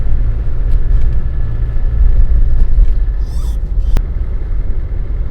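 Low, loud engine rumble fills the cabin of a Land Rover Defender 110 throughout as it drives, with a brief sharp click near the end.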